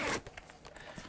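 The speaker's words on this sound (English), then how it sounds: "To put it together, you just pull it out and pull these zips up like so." Zips on a teleprompter hood, the Ikan PT-Elite Pro 2, pulled up in a few quick rasping strokes, close and clear with no talking.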